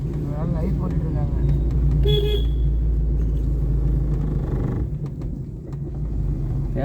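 A car driven slowly in second gear on a road with other traffic gives a steady, loud engine and road rumble, while someone talks over it and a brief tonal beep sounds midway.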